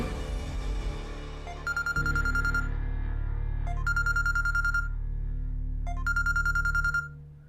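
A phone rings in three repeated electronic bursts, a bright warbling tone over a low steady engine hum.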